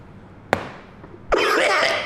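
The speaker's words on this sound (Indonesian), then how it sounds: "Aduh, ini batuk nih." A person coughs after vaping, a single sharp cough burst followed by a longer rough, breathy coughing fit up close.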